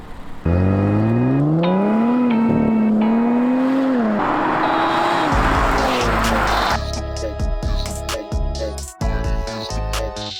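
A 2024 Nissan Z Nismo with a 3-liter twin-turbo VR30 V6 revs loudly, the pitch climbing and settling in long sweeps before giving way to a busier, clattering stretch of engine noise.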